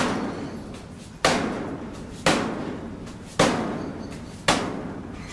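Four heavy hammer-fist strikes land on a round training bag during iron palm combat conditioning, sharp evenly spaced thumps about a second apart with short ringing decay.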